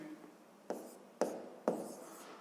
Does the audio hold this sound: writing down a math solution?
yes